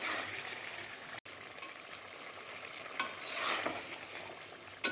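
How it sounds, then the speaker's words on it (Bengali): Kolkata-style mutton keema being sautéed with ginger-garlic paste and spices in a pan: quiet scraping stirs over a low sizzle, with one sharp knock partway through and no voices. "এবার ভালো করে এটা মশলাগুলো কষিয়ে নিতে হবে।"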